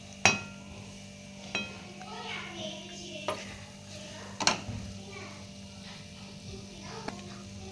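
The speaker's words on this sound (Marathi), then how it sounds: "आता ही सगळी जिन्नस व्यवस्थित एकजीव करून घ्यायचंय." A spoon stirs and mixes sweet modak filling with freshly grated nutmeg in a kitchen pan, giving soft scraping and a few sharp clinks against the vessel over a faint steady background hum.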